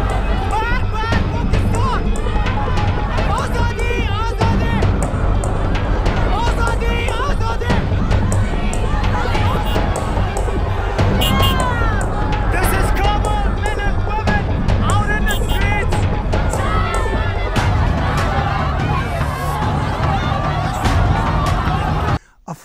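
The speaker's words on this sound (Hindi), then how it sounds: "पाकिस्तान के एम्बेसी के बाहर नारे लग रहे हैं" A large crowd chants slogans outside the Pakistani embassy, a loud, dense mass of overlapping voices that fills the clip and breaks off abruptly at the end.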